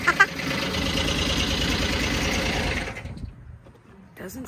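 A truck with a blown engine runs roughly, a loud uneven clattering idle close by that cuts out near the end, with brief voices over it.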